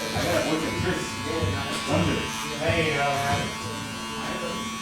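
Electric hair clippers cut through long, frizzy hair in a barbershop with a loud, steady buzz that is close to the mic. The motor tone rises and dips as the clippers bite into thick hair, and someone talks over it throughout.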